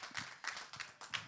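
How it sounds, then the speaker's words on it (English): A few scattered, faint claps from a conference pavilion audience, four or five separate handclap bursts spaced unevenly over about a second, thin and distant rather than a full ovation. "join me in giving a hearty round of applause to all of our amazing speakers"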